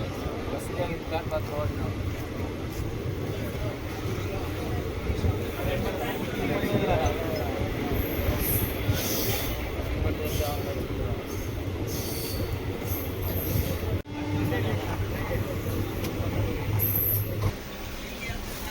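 Yelagiri Express passenger train runs steadily on rails between Chennai Central and Jolarpettai, a continuous loud rumble with wheel squeal and brief high screeches heard from inside.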